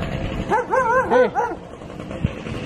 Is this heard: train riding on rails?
no